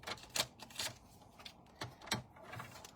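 A paper trimmer slicing card for a centre step card, a few sharp separate mechanical clicks and blade sweeps, close and fairly quiet, with no talking.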